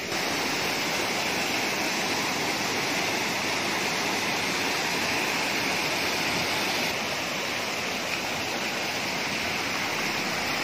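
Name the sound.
Wadakada Ella waterfall with low flowing water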